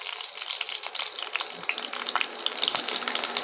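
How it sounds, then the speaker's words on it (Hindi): Onions and chillies for a village-style pork dry fry sizzle steadily in a pan, a bright, crackling hiss with small pops and occasional stirring, close and fairly loud. "प्याज और मिर्ची बहुत ही अच्छी तरह से फ्राई हो चुकी है"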